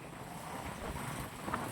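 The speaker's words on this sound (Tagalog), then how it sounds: "Lakas ng hangin." Strong wind buffets an outdoor microphone during a year-end ride near pine trees in San Nicolas, Pangasinan, a continuous rough rumbling roar with no pauses.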